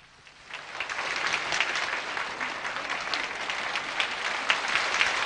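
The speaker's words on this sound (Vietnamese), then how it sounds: "những tràng pháo tay cổ vũ của quý vị" Audience applause for a Vietnamese composer at a televised music program, a steady wash of many hands clapping that swells in after a quiet start and holds at an even, moderately loud level throughout.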